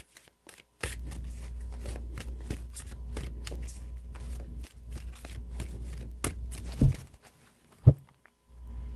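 A tarot deck is shuffled steadily up close, a continuous papery riffle over a low hum for several seconds, ending with a couple of sharp taps as the cards are squared.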